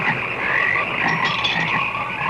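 Frogs croak in a dense, continuous chorus from a horror film trailer, a steady rasping din with no speech over it.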